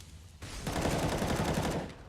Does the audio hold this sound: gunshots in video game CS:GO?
yes